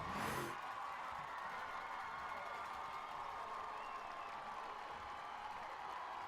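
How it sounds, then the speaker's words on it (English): A high school football crowd at a Lakeside Rams versus Lake Hamilton game roars with loud, continuous cheering and clapping, a dense sustained wall of noise after a short louder burst at the start. "The noise from this crowd is deafening right now."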